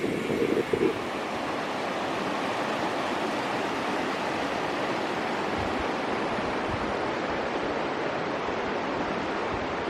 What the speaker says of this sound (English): this looks like it could be the river up here